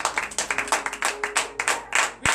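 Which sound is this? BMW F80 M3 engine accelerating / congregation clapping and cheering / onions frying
congregation clapping and cheering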